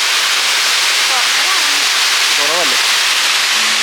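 Iruppu waterfall in Kerala running low on water, a loud, steady broadband roar of falling water filling the scene, with faint voices and brief whistling tones rising above it.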